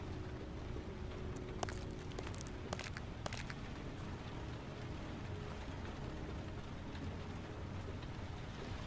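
Steady rain hisses continuously in the video game Heavy Rain, a dense even wash of falling water with a few brief sharper crackles early on.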